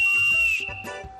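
A handmade clay whistle, a svistulka, gives a steady high pure whistle that holds for about half a second and then tapers off, with softer breathy tones and low handling noises after it.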